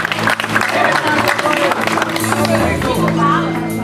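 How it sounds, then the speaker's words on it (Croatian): An audience at the Baka i prijatelji 2020 show applauds a performer, a broad wash of clapping mixed with crowd noise, heard with a voice and a sustained musical tone running beneath it. "Hvala lijepo, aplauz za njega."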